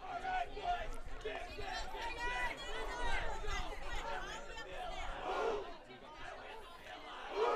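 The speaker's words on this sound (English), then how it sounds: "Longer cheer." A high school rugby team's boys shout a long rhythmic group cheer before a game, many voices chanting together at a distance, loud crowd-like and sustained.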